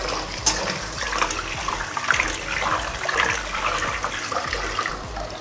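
Rice being washed under running tap water: a continuous close splash and gush of water pouring and churning in a vessel, steady and fairly loud with no talk.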